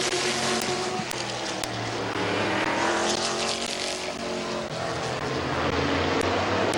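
Race cars start a heat race at Midvale Speedway, engines roaring loud and close in a dense, continuous blare that swells as the field accelerates away, with no voice over it.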